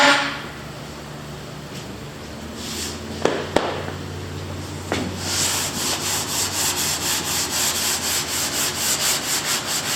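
Sandpaper rubs over a car body being blocked with guide coat, first a few scattered scrapes and sharp ticks, then a steady, evenly paced back-and-forth sanding rhythm of repeated strokes close up, with no talking.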